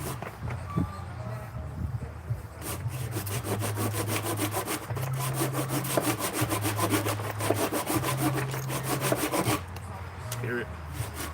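A hand saw cuts through a long piece of wood for a garden shed foundation, its steady back-and-forth strokes rasping in an even rhythm, close and continuous throughout.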